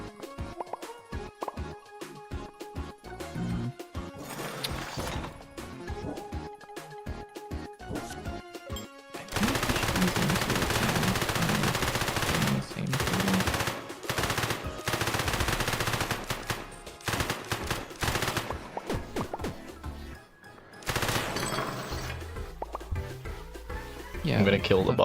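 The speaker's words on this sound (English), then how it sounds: "I can't hear you over the sound of gun." Video game gunfire crackles in dense rapid bursts, loud and close, with machine-gun-like runs and single shots over long stretches, broken by short pauses.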